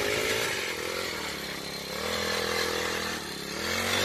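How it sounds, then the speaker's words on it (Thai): Lawn mower engine converted into a soil digger for loosening ground around date palm trees, running loud and close with a continuous buzzing drone whose pitch dips and rises as the load changes. "ดัดแปลง รถตัดหญ้า เป็น ที่ขุดดิน รอบต้นอินทรัม"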